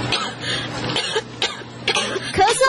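A person coughs several times in quick succession, loud and close, with throaty rasps between the coughs.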